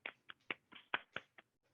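Hands slapping and smacking the top and bottom of a bare foot during a morning wake-up yoga routine, about eight quick, close, separate slaps in an uneven rhythm, with no talk.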